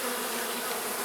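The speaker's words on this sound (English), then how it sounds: "lots of bees at the front here" Honey bees swarm in a dense, steady buzz at the front of a beehive, close and loud, with no voices.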